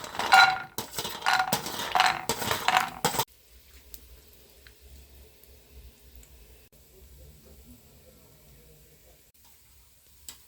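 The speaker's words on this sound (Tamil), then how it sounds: "இப்போ கொஞ்சமாக நிலக்கடலை போட்டுக்குவோம்." Peanuts hit hot oil in a pan while tamarind rice is being made: a loud, close rattling splash and sizzle for about three seconds, then it fades to a faint, low, steady fry.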